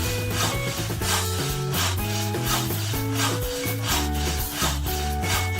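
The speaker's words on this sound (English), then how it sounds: "now I can grate some cheese" Cheese is rubbed against a grater for a pizza, a series of quick, regular rasping strokes about twice a second, heard under loud, steady background music with no voices.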